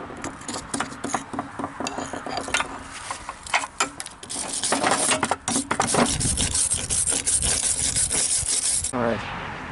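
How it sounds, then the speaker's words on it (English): A wire brush scrubs scale and debris from the threads of a whitewater pitless adapter, making harsh, close scraping strokes that grow denser and louder toward the end. "clean out the debris and scale where the O-rings go, along with wire brushing and everything else"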